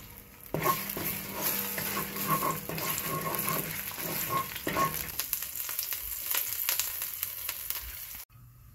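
A Caribbean peleau left to brown and caramelize in a pot, giving a steady sizzle and crackle with occasional stirring clatters, close and continuous, with no talking.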